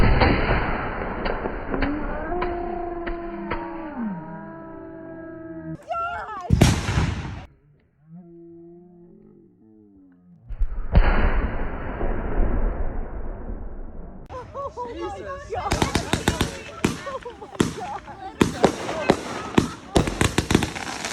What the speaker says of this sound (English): This video captured what started the ground explosions.